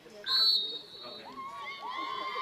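A referee's whistle at a high school field hockey semifinal gives one short shrill blast, followed by crowd noise and chatter around the field.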